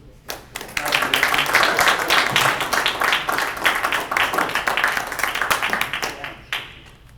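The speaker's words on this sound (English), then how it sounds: "I'd like to welcome, with a big round of active Claremont applause, whoever's going first." An evening community meeting audience breaks into sustained applause, dense and close, lasting several seconds before fading out.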